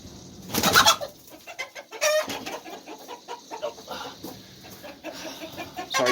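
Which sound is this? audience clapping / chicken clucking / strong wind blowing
chicken clucking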